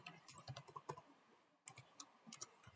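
Quiet, quick typing on a computer keyboard, a run of light key clicks, a brief pause, then another burst of tapping, close and alone without speech.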